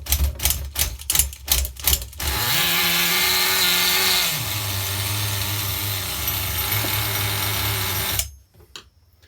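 An HPI RS4 nitro RC F150 pickup engine, loading up with fuel on 16% nitro, sputters and pops a few times before settling into a loud, steady buzzing run, then cuts out abruptly near the end.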